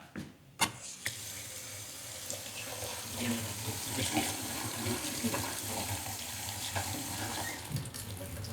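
Cold water runs steadily from a tap into a sink in a bare house being turned into a kitchen, a continuous close hiss and splash with a brief knock near the start.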